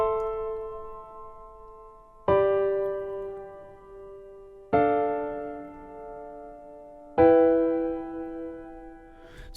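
A sampled piano loop in FL Studio plays four sustained chords, each struck cleanly and left to ring and decay, with the middle note of each chord raised an octave, spaced about every two and a half seconds.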